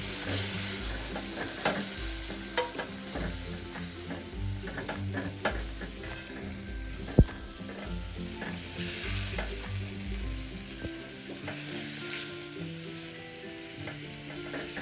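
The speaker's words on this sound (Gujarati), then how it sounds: "ધીમો ગેસ કરી અને આપણે એમાં બટેટા એડ કરી લઈએ" Boiled potatoes are stirred into gravy in a pan on low gas, giving a steady soft sizzle with scraping and stirring clatter and a sharp tap near the middle, no voices.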